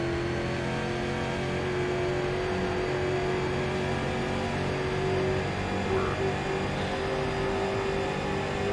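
Race car engine in the iRacing sim, a Street Stock at Rockingham Speedway, droning steadily at constant revs for the whole stretch, a sustained buzzy hum with no clear shifts or pauses and no talk over it.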